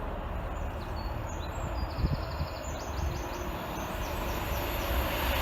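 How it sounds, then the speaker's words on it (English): A slow InterCity 225 train passing Norwell Lane level crossing, a steady low rumble of wheels and engine with faint high whining tones, moderately distant and continuous throughout. "it is a slow intercity 225 set."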